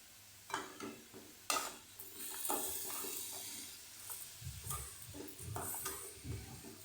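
Carrot halwa with cashews, almonds and raisins is stirred in a pan, with irregular scraping strokes and a soft sizzle, moderately close and quiet, no talking.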